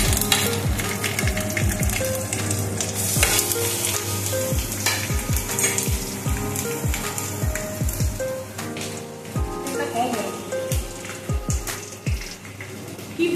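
Dried chillies and curry leaves sizzle and crackle in hot oil for a tadka, making a loud, continuous frying hiss dense with sharp pops, close up and with no talk over it.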